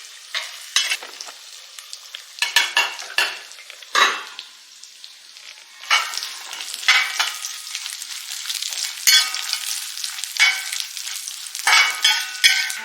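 Grated coconut is roasted in a pan for a Kottayam-style beef dry fry, with repeated scraping stirs of a spoon over a soft, steady sizzle, close and fairly loud, with no voices.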